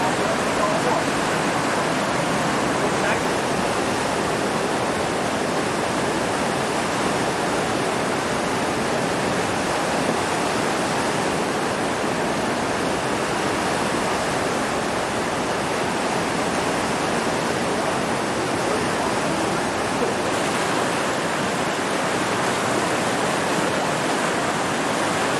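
Steady, loud rush of river water flowing past a viewpoint on a Swiss holiday, a broad unbroken roar holding level throughout with no other sounds standing out.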